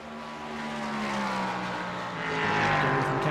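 GTP and LMP3 prototype race cars in the iRacing sim race roar past with a steady, rising engine drone and shifting pitch, loud and continuous, with faint commentary underneath.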